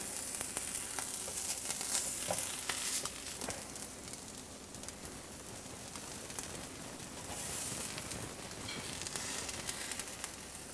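A Reuben sandwich with hot sauerkraut and melting cheese sizzles steadily as it toasts in a pan, a close, continuous frying crackle with small pops and no talking.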